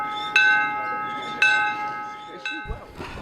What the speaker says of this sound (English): Someone let the Welshie loose with a bell.